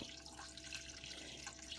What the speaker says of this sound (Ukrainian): Тепер доливаємо води. У мене гаряча вода, я доливаю